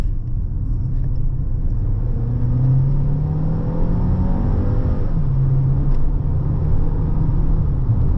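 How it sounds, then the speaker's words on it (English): A 2025 Jaecoo J7 with a dual-clutch gearbox accelerates hard through the gears, heard from inside as a loud, steady engine drone and road rumble with rising pitch sweeps that drop back at each shift. "So I'll just give it some and let it go up through the gears, and just take note of the time it takes to change gear."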